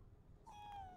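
A cat in a video game gives a single short meow about halfway through, over a low background hum, with no talking.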